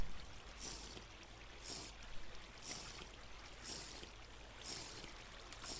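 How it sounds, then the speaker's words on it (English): River water flows in the survival game TerraFirmaCraft, a faint, steady rushing stream with soft periodic splashing pulses. "This is flowing water."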